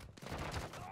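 Gunfire in an online multiplayer shooter game, a quick burst of shots rattling close and loud across under a second, with no clear voices over it.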